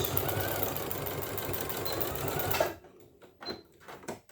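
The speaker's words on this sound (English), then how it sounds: "I'm just doing like an 1/8 inch basting stitch, and you can back stitch" A sewing machine runs an eighth-inch basting stitch on a hands-free eco bottle bag, its rapid mechanical whirring close and steady for about two and a half seconds before stopping, followed by a few faint clicks.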